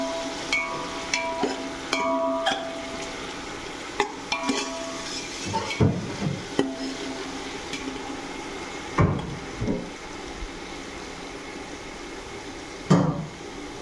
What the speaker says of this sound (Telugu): ఈ అల్లం వెల్లుల్లి పేస్ట్ని బాగా ఫ్రై చేయాలి